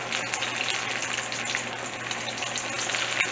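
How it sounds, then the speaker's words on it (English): Chicken tenders deep frying in preheated oil, a steady, dense bubbling sizzle with no voices. "I have my oil that's preheated here, and we'll start to place some of my tenders in here."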